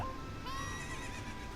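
Epona the horse whinnies in the video game The Legend of Zelda: Ocarina of Time, a single high, wavering neigh rising over a steady background of ambient game noise.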